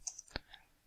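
A few soft, quick clicks sound close by, like keys being pressed on a keyboard, in an otherwise quiet room.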